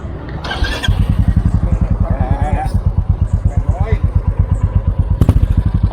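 A Royal Enfield Classic 350 single-cylinder motorcycle with a split exhaust pipe starts up and idles close by, a loud, rapid, even thumping beat that carries on steadily, with people talking over it.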